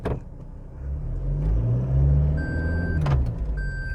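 Cabin of a 2020 Toyota Hilux Conquest pickup driving in four-wheel drive: a steady low engine and road drone runs throughout, with a few short clicks and tones from the cab but no talk.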